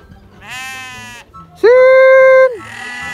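Sheep on a farm bleat three times in quick succession, loud and close, the middle call longest and strongest.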